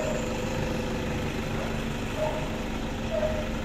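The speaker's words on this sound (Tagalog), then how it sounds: "Nagiinit ng makina ng sasakyan." A 2015 Toyota Hilux Vigo Champ VNT diesel engine idles while warming up in the morning, a steady low hum with a faint whine, constant and unbroken, heard from nearby with no talking.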